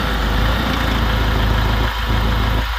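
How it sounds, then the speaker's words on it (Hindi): A Mahindra Scorpio mHawk diesel engine idles steadily after an injector repair, a loud, close, even rumble that runs without a break and has no talk over it. "फिटिंग हो गया, अभी स्टार्ट करेंगे गाड़ी। स्टार्ट मारो।"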